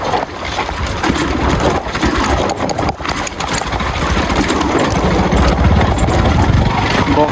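A motorcycle engine runs loudly and steadily during a ride on a rough road, with a continuous rumble and no pauses.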